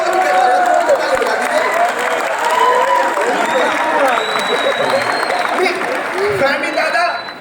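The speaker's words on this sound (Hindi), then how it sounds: "आप जोर से ताली बजाइए" Audience applause at a poetry recital held at IIT Kanpur, a sustained wash of clapping from a large crowd that carries on for several seconds, loud and dense, with crowd noise mixed in.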